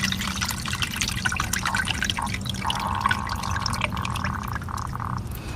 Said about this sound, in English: Let that rainwater fall in here.